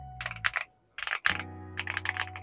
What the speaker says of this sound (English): we have a very nice sounding keyboard right out of the gate